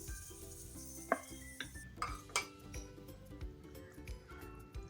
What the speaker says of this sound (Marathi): खीर अशी सारखी हलवायची, कारण तांदूळ खाली लागू शकतात ना, त्यामुळं सतत हलवायचं कमी गॅसवर